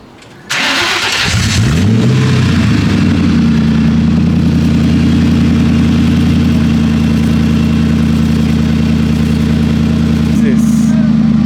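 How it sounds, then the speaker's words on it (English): A lowered car with its old exhaust removed cranks and fires up, rising into a loud, raw, rumbling idle that holds steady close by, with a slight blip near the end; a voice speaks briefly over it. "So with all the old exhaust removed, let's fire it up and hear it in its raw form power."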